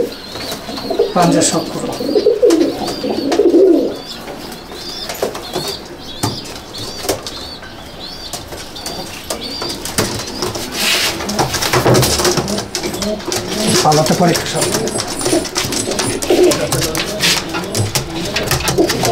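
Pure Pakistani slate Kamangar pigeons in a home loft give soft coos over repeated bursts of wing flapping and fluttering, with someone speaking close by.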